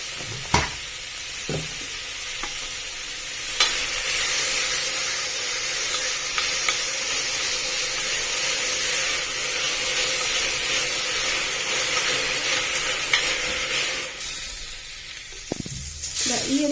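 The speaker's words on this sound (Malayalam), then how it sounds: "ഈ ഒരു പരുവത്തിൽ നമ്മൾ വഴറ്റിയെടുക്കും." Onions softening with a pinch of salt in a pan for chicken curry give a steady close sizzle and hiss, with a few scrapes of stirring near the start and end.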